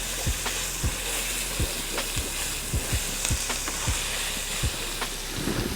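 Seasonings get stirred into a sizzling pan of food for a pasta bake, with a steady close frying hiss and repeated soft thumps and scrapes from the spoon.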